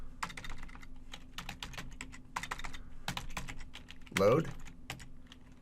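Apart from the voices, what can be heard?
typing commands on a computer keyboard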